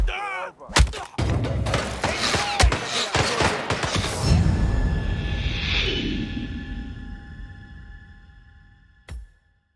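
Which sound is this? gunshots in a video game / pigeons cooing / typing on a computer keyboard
gunshots in a video game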